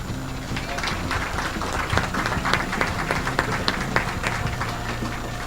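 A church congregation applauds during a Spanish-language sermon, a sustained wash of claps and crowd noise with sharper individual claps standing out.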